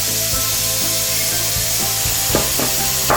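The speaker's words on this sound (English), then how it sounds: "So at this point I'm going to add some onions and continue my pounding." Onions being pounded in a mortar for Nigerian Afang soup, with dull rhythmic thuds repeating about every half second over a steady background hiss, close and moderately loud, no talking.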